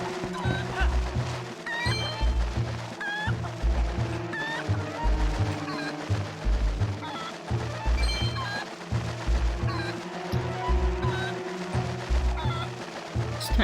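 Chickens cluck repeatedly in the video game Twilight Princess, short bright calls scattered over a looping rhythmic background music track.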